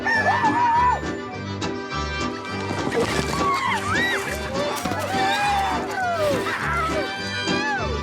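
Chickens cluck and a rooster crows repeatedly amid lively music and crowd noise during a Cajun Mardi Gras chicken run, the bird calls rising clearly over the busy backdrop.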